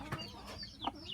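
Farm chickens cluck in a few short, close calls spread across a brief moment, over faint background noise.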